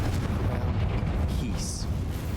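A fiery Confringo spell blast in Hogwarts Legacy, heard as a dense, sustained roaring burst of noise that fills the short moment at steady loudness.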